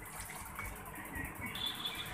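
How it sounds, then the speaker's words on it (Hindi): Tap water runs faintly and steadily while temple utensils are washed, a soft continuous splashing rush with no voices. "मंदिर के बर्तन को मैं रोज़ धोती हूँ"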